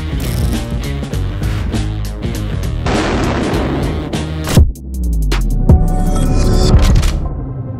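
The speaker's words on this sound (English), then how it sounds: "we have people firing guns at Bud Light cans" Guns fire at Bud Light beer cans: loud, dense gunfire and booming bursts pile up continuously, with a few harder cracks standing out near the middle and no talk.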